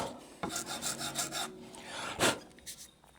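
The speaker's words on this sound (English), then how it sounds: "So I'm just going to go to a finer file." A nut file rasps across a guitar nut on a custom headless guitar, a few close back-and-forth strokes in quick rhythm, then a single sharper scrape and lighter touches.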